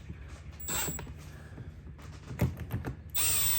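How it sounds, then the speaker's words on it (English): A power drill drives a screw into a Bison rail mount for a Milwaukee Packout tool system, with short whirring bursts, some clicks and creaks between them, and a longer run at the end, without talking. "Drive your screw in."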